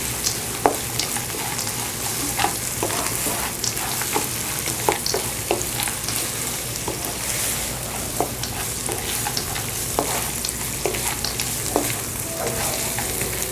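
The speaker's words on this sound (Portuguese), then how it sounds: "Quando a cebola tiver amolecido um pouco, a gente joga o amendoim para fritar um pouquinho com ela também." Onion and peanuts fry in a pan, a steady close sizzle with a spatula scraping and stirring in repeated short strokes throughout, no voices.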